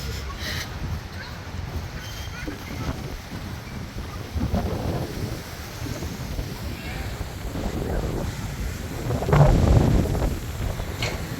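Strong gusting wind in an open sandy area of Sharjah, UAE, buffets the microphone with continuous low rumbling that swells in waves, loudest near the end, while someone speaks intermittently.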